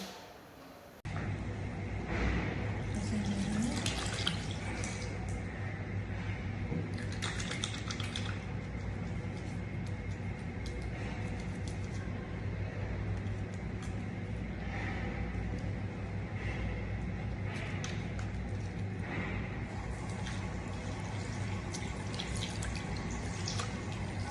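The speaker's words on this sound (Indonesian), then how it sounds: "saya akan melakukan cuci tangan angka dengan menggunakan sabun dan di bawah air mengalir" Hands being washed with soap under a running tap in a clinical setting before examining a baby, a continuous steady hiss of flowing water with faint splashes and drips, fairly quiet and unbroken.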